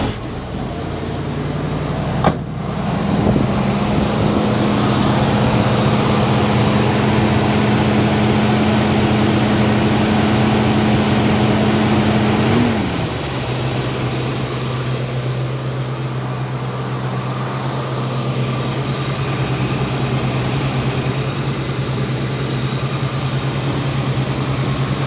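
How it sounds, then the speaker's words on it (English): Big block Ford Dentside truck engine, just fitted with a new exhaust manifold gasket, cranks over after about two seconds and catches, then settles into a steady loud idle inside a garage, with a slight drop in pitch partway through. "Let's fire this guy up and see if the exhaust is quiet and see how it runs here."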